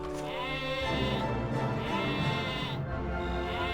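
Sheep in the video game Dragon Quest VIII bleat in a continuous, loud, wavering cry that fills the short stretch without pause.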